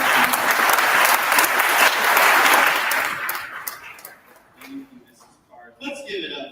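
Audience at a meet-and-greet event breaks into loud, sustained applause for a speaker, dense clapping for about three seconds before thinning into scattered claps, with a few voices rising near the end.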